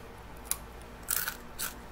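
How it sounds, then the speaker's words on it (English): A heavily spice-powdered store-bought snack gets bitten into, making several crisp, close crunches, one sharp snap, then a louder cluster of crackles and a final bite over quiet room hiss. "Definitely got the crunch."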